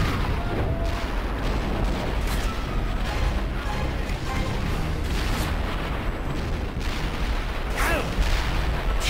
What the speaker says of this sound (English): Sniper!